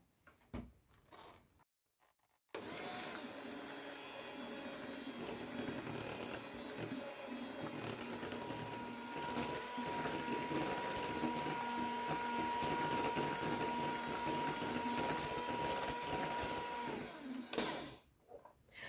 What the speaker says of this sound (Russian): Сейчас я ее взобью миксером.